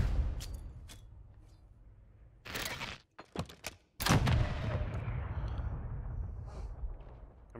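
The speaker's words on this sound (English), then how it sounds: "I'm getting sniped at." Sniper shots in Modern Warfare 3, several sharp loud cracks arriving close together with a heavy boom trailing off into game ambience, amid quieter scattered clicks.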